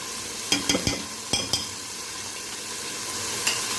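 Ten green chilies and a piece of ginger frying in a handi for murgh daal, with a soft continuous sizzle punctuated by a quick cluster of clinking stirs early on and a few later taps.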